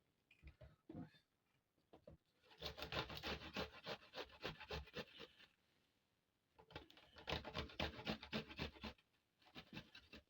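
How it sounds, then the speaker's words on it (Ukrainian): Garlic cloves are rubbed against a hand grater in two long runs of quick, rhythmic rasping strokes, close and clear, with a few scattered scrapes between them and no voices over the grating. "Також беремо, натираємо на цю саму тертушку 2-3 зубчики чесничку."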